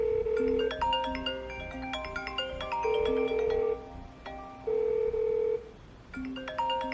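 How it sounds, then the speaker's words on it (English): A smartphone rings after Google Home calls it to find it, playing a bright melodic ringtone at moderate volume. The tune repeats in phrases with brief pauses between them. "Hey Google, find my phone."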